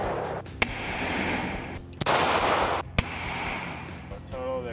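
Gunshots fired at a target ring out as several sharp, loud cracks spaced about a second apart, each followed by a brief echo over background noise.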